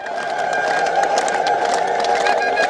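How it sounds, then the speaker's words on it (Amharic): A crowd ululates in praise at an Ethiopian Orthodox Tewahedo monastery ceremony in North Gojjam, a dense, sustained, loud wash of high trilling voices with no pauses. "እልልታ ይገባል።"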